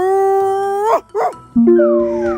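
A voice imitates a dog howling, drawing out long wavering howls broken by a short yelp-like break, loud and close, with no other sounds.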